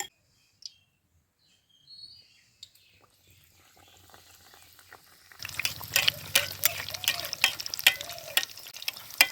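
Eggplant beguni fritters in batter drop into hot oil in a kitchen; after a quiet start with faint clinks, a loud, dense frying sizzle bursts in and bubbles steadily to the end.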